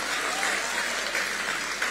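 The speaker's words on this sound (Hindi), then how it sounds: "सारे बंगालियों के लिए तालियां बजाएं आप।" An audience at a staged talk event applauds in a steady, even wash of many hands clapping, moderately distant and sustained for the whole moment without a break.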